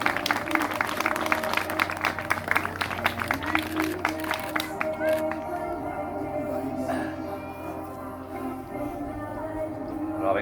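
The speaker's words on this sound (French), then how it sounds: "Vous pouvez applaudir les mariés?" Wedding guests at an outdoor secular ceremony clapping for the newlyweds, a lively round of applause that thins out midway into a quieter crowd murmur.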